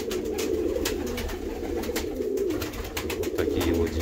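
Steady, continuous cooing from a flock of pigeons, layered low murmurs close by, with faint rustling and occasional clicks throughout.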